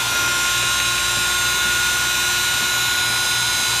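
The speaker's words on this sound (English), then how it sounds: "She's just going to feel the vibration of the Dremel." A Dremel rotary tool, used for trimming a dog's nails, runs steadily up close, giving a continuous high whine with a faint low hum under it and no pauses.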